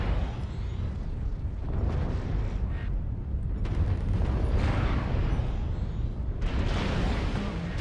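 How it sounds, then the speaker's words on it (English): An artillery strike in the MechWarrior video game brings a steady barrage of rumbling explosions. They pile into a dense, continuous roar, with a few sharper blasts standing out. "Artillery strike activated."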